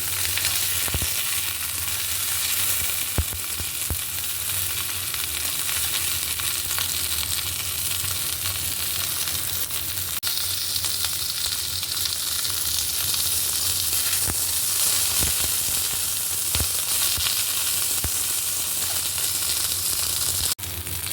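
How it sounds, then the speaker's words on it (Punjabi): Okra frying in a small amount of oil while being stirred, a steady close sizzle with scattered clicks and scrapes of the spoon running throughout, no voices. "ਪਿੰਡੀ ਜਿਹੜੀ ਆ ਉਹ ਅਸੀਂ ਹਲਕੇ ਜਿਹੇ ਤੇਲ ਵਿੱਚ ਫਰਾਈ ਕਰਾਂਗੇ"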